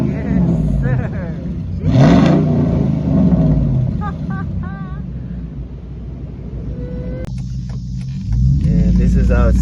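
Ram 1500 pickup V8 with muffler and resonator delete, a deep loud rumbling exhaust that swells with revs and then settles to an idle, with someone talking over it.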